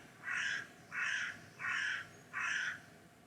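Crows cawing outdoors, four evenly spaced harsh caws at a moderate distance, clear and alone with no talk.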